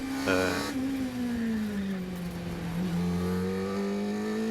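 A 750MC Sports 1000 race car at Anglesey drones on in third gear after a botched shift from second, its engine note sagging and then climbing again, loud and close from onboard.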